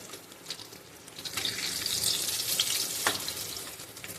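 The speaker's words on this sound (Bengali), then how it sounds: "হলুদ লবণ দিয়ে ভাজা করে দিচ্ছি" Brinjal frying in a pan with turmeric and salt sizzles in a loud, continuous crackle that swells in the middle, broken by a few sharp spatters.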